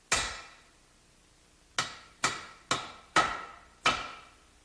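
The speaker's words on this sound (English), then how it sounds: "a 1 1/4 inch socket and soft hammer are used to install the input cluster shaft seal" Six sharp soft-hammer taps on a socket installing a shaft seal in a Ford manual 5-speed transaxle clutch housing, one alone and then five in a quicker series, each a close, bright knock that fades quickly.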